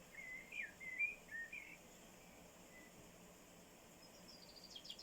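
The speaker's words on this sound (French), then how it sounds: "Entendez les oiseaux." Faint birdsong: a few short whistled phrases early on, then quiet, with soft chirps returning at the end over a hushed outdoor background.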